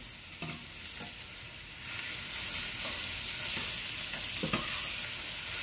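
Chili ingredients sizzle in a hot pot on the stove, a steady close frying hiss with occasional soft scrapes and knocks as a utensil stirs them, no voices.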